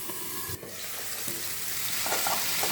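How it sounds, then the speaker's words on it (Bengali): Mutton keema, lightly coated in salt and turmeric, hitting hot oil in a pan and frying with a strong continuous sizzle, stirred as it cooks. "এবার একে তেলে ছেড়ে দেবো।"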